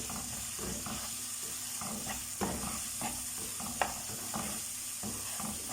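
Spice powders and crushed red chilli frying lightly in a pan for a fajita dish, a continuous close sizzle broken by occasional stirring clicks and scrapes.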